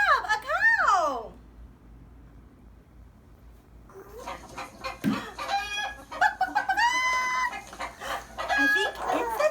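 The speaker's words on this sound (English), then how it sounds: "I think it's a chicken. Wow, or a rooster." Rooster crows once loudly at the start, followed after a pause by a run of chicken clucks and squawks of varying pitch, in a toddler's animal-sounds setting.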